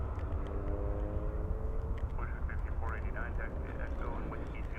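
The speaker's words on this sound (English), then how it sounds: "there's the heavy A350 1000 back off to Doha" A heavy Airbus A350-1000 jet departs the airport at night with a steady low engine roar, moderately distant, while voices talk over it.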